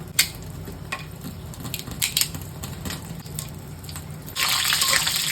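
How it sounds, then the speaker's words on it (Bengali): Whole spices, dried red chillies, bay leaves, cardamom and cinnamon, crackle and hiss in hot oil in a village kitchen wok, a steady close sizzle that swells louder near the end, with a few sharp pops. "মশলাগুলো সব তেলের উপর ভাজা হয়ে গেছে"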